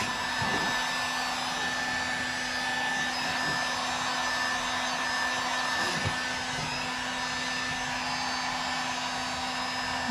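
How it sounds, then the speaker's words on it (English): An old heat gun blows steadily as it warms plastic parts on a Traxxas XRT RC truck, giving a constant loud whirring hiss with a fixed motor hum throughout. "I take my old heat gun, warm up the plastic"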